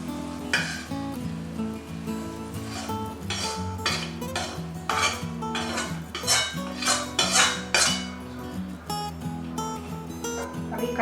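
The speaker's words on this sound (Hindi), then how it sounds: "अभी ये मसाला मैं आलू में डाल के उसको मैश कर लूंगी, अच्छे से मिक्स कर लूंगी" Boiled potatoes mashed and mixed with spices in a kadai, giving repeated scraping and clanking of a metal utensil against the pan in steady bursts, close up over a low background hum.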